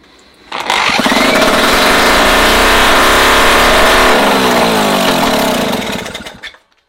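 An MBK moped engine, freshly fixed after an ignition coil fault, is choked and started, then runs steadily at a buzzing two-stroke idle for several seconds, close and loud, before cutting off.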